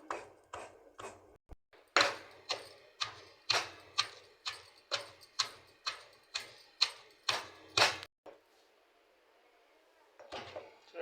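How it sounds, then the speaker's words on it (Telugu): Dried shrimp chutney ingredients, with a little salt added, are pounded in a mortar: about fourteen sharp, evenly spaced thuds over eight seconds, a brief pause, then a few more strikes, close and fairly loud. "ఇప్పుడు ఇది కూడా కొంచెం దంచేద్దాము"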